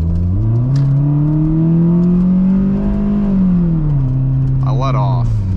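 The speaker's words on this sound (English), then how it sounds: "I floored it for a bit and then let off" A Toyota Corolla fitted with new Wilwood brakes is floored at full throttle, its engine drone rising steadily in pitch, holding, then falling as the throttle is released, loud and close throughout.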